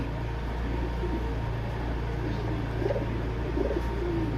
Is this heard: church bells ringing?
no